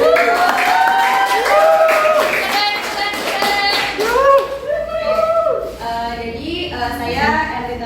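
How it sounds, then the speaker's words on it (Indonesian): Students in a classroom clap together in a brisk round, largely overlaid by several voices talking and calling out over the claps. "tepuk tangan dulu"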